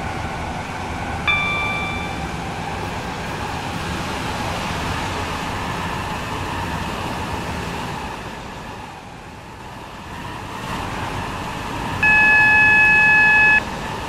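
A four-coach passenger train runs with a steady, fairly loud rumble, heard from inside the carriage. Short electronic beeps sound near the start and again near the end.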